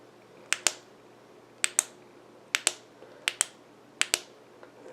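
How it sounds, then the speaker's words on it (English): Five pairs of crisp clicks from a Thrunite TC12 V2 flashlight switch being toggled on and off, evenly spaced, close and loud against a quiet background. "there's that loud switch we were talking about"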